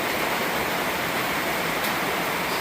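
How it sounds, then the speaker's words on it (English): Heavy rain pours steadily onto the roof and yard around a covered back porch, a dense, even hiss with no breaks. "Yeah, it's raining now."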